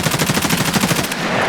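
Rapid automatic gunfire from a weapon in the shooter game Escape from Tarkov, a steady burst of evenly spaced loud shots lasting about a second, then cutting off into a lingering echo tail.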